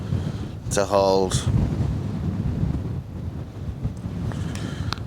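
Strong wind buffets a microphone outdoors in low, continuous rumbling gusts, loud and close throughout, with someone speaking briefly over it near the start.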